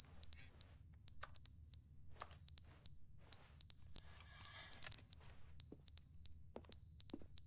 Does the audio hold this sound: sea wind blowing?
no